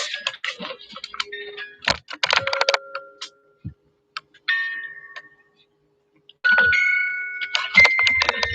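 An old bell rings in a garden in several clear, bright metallic strikes with lingering tones, separated by pauses. Other scattered clatter is heard between the rings, and no one talks.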